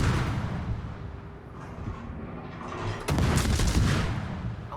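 Naval guns firing in a warship battle video game, a dense rumble of distant booms that gives way to a louder, sharper salvo with rolling low-end thunder, with no voices.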